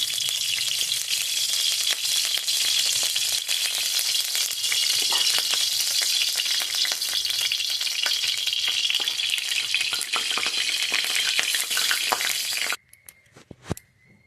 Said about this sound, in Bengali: এবারে দেখো এই যে একটু জিরে ফোড়ন দিয়ে দিলাম।